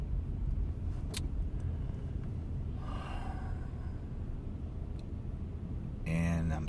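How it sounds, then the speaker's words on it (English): Steady low road rumble of traffic around a car stuck in a jam, a continuous near drone with faint breathing and a brief higher sound near the end. "And I'm stuck in traffic"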